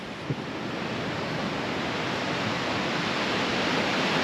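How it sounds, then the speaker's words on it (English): Steady roar of ocean surf washing onto a beach at Panama City Beach, Florida, a continuous broadband wash with no voices, close and fairly loud. "Look at that wave action."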